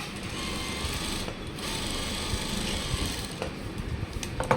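A sewing machine stitches a trouser pocket, running in a steady, continuous close-up whir for the whole stretch with only slight dips in speed.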